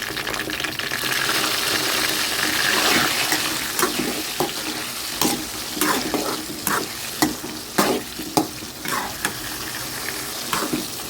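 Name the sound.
brinjal frying in a pan with salt and turmeric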